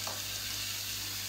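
Garlic sizzling in hot oil in a frying pan with halibut, a brief, even, fairly quiet hiss that stays steady throughout.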